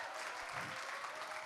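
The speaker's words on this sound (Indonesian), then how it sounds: "Tepuk tangan UNS." Dense applause from a university audience of UNS students at a campus event, brief and fairly faint, with no clear voices over it.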